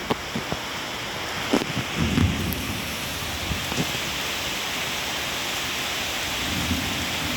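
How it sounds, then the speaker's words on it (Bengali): Steady rain hisses over a surface while a few distant thunder rumbles and cracks break through, mostly near the start, with no talking. "কত দূরে বৃষ্টি হচ্ছে, আর দেখো আওয়াজ হচ্ছে"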